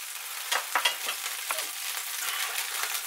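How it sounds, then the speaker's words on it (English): Beef and chopped vegetables fry in beef dripping in a frying pan, giving a steady close sizzle with a few louder crackling pops near the start. "And then we need to fry off these vegetables."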